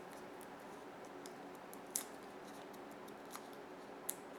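Scissors make small cuts in craft material while making a pinwheel card, giving two or three quiet, crisp close-up snips spaced a couple of seconds apart over a faint room hush.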